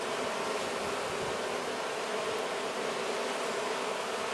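A steady, dense honey bee buzz hums throughout, like many bees droning close by with no pauses, during installation of a new colony.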